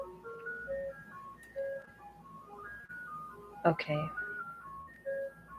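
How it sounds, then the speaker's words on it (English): Outside, an ice cream truck plays a fast, tinkly electronic tune, distant and faint, while someone nearby speaks briefly. "the ice cream truck where the music seems to be going very quickly"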